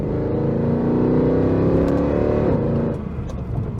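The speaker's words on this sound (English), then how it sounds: "And under load, this thing shifts pretty good." 2009 Mercedes-Benz C63 AMG V8 accelerating hard under load, a loud, continuous engine roar climbing in pitch with a gear shift near the end, heard alone.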